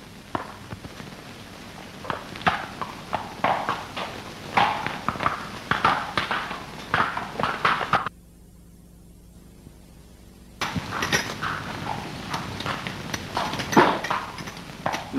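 A horse's hooves clip-clop in an old 1951 film scene, a steady rhythmic clopping at moderate distance that breaks off into a brief near-silence before resuming, with no speech.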